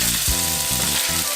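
Beef searing in olive oil in a hot pan over medium-high heat, a dense steady sizzle with crackling pops throughout, close and loud with no speech.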